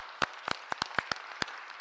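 Sparse applause breaks out at a Board of Public Works meeting, a handful of separate claps from only a few people spaced irregularly over under two seconds, sharp and close.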